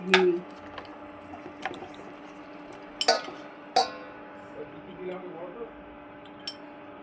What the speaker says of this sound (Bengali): এবারে ঘি দাও